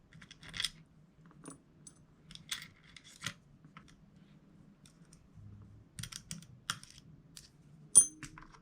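The charging handle being taken off a DSG airsoft Vector gives a few sparse, close plastic clicks and small snaps, separated by quiet pauses.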